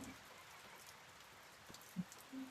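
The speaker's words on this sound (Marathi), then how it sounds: "इतका जोरदार पाऊस सुरू आहे ना" Heavy rain falls as a steady, even hiss of drops on surfaces, faint and continuous, with a few slightly louder drips and no voices.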